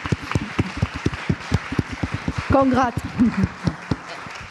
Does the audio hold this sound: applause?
yes